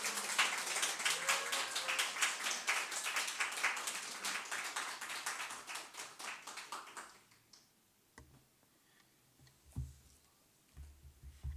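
A church congregation claps in welcome at a revival service: a dense round of applause with rhythmic unison beats that fades out after about seven seconds, leaving a quiet hall with scattered knocks.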